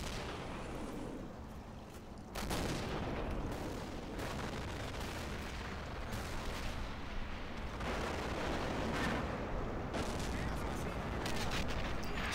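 Men of War: Wüstenkrieg battle at an airport, a dense, continuous barrage of artillery and gunfire with rumbling explosions, loud and sustained throughout.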